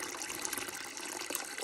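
Bleach pours into a tub of very hot water holding a dirty LG washer door boot, making a continuous splashing, gushing stream at close range.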